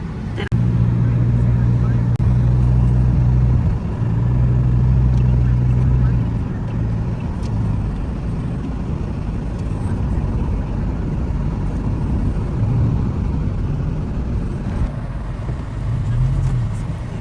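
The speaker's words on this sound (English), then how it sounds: "Every time is full of traffic, days and night." Busy city traffic in Dubai, a steady roar of engines with low idling and passing-vehicle rumble, loud and continuous throughout.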